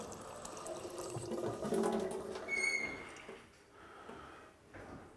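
Water pours into a rice cooker in a home kitchen, a soft splashing stream that swells and then trails off into quieter drips and small clatters, with no talking.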